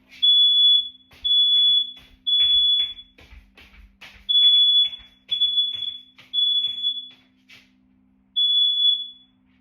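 Smoke alarm set off by burning sage, shrieking in a series of loud piercing beeps, about one to three seconds each with short gaps, steady and close, with faint background clatter.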